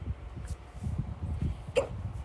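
A single hiccup bursts out sharply near the end during a quiet drawing session, standing clear above a low, steady background rumble.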